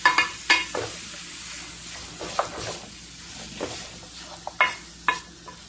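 Country chicken curry being stirred in a pan, a spoon scraping and knocking the metal in scattered strokes over a soft sizzle, close up with no talking.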